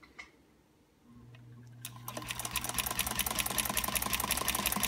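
A sewing machine with a ZigZagger attachment stitches light fabric over stabilizer, starting after a brief low hum and settling into a steady, rapid, close mechanical whirr of needle strokes.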